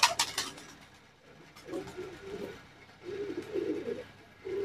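Colourful Guldar Khal pigeons in a breeding setup give soft, repeated cooing phrases in the middle and toward the end, after a brief flutter at the start, with no talk.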